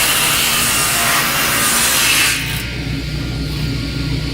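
A saw cuts through a wooden piece held by an NMP Gripper on a table saw. A loud, steady grinding rasp lasts a little over two seconds, then drops to a quieter motor hum.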